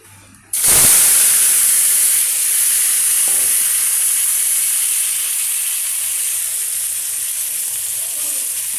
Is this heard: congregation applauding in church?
no